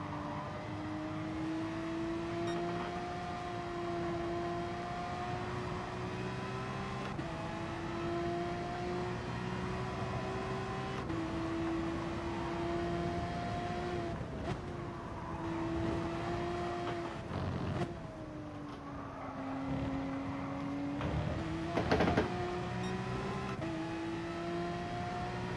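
Steady Porsche engine drone from Gran Turismo Sport, holding a sustained tone that rises and dips slightly with throttle over the whole stretch, with brief louder bursts near the end and no talking.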